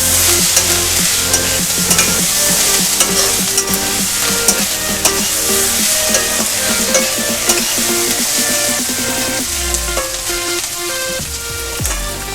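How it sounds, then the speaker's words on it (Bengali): Bottle gourd peel frying in a pan over medium heat, a steady dense sizzle with frequent scraping and stirring clatter running throughout, close and fairly loud with no voices. "মিডিয়াম আঁচে এটা একটু ভেজে নিতে হবে ঢাকা দিয়ে দিয়ে।"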